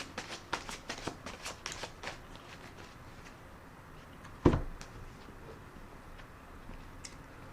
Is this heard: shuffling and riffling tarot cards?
yes